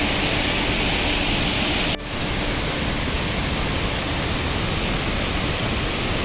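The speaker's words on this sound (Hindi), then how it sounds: "ये देखिए वाटरफॉल, कितना बड़ा वाटरफॉल है।" Large waterfall on the Madhyamaheshwar trek in Uttarakhand, a steady, loud broadband roar of falling water that fills the whole clip with a brief dip near two seconds, no voices.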